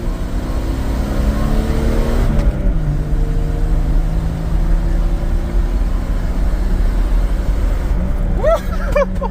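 A 1996 Jeep Cherokee rolls along a country back road, its engine droning loudly and steadily with a shifting pitch and road rumble underneath, and a brief voice near the end.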